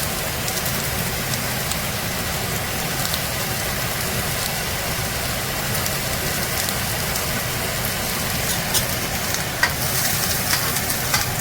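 Onions and curry leaves sauté in a pan with a loud, constant crackling sizzle that runs on steadily, broken by occasional faint spatula scrapes and with no voices.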